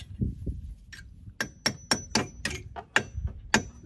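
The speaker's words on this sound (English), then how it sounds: "Use the hammer." Metallic hammer taps strike about eight times in a fairly steady rhythm, each blow ringing briefly, close by after a couple of soft thuds, driving a pin into a racing brake.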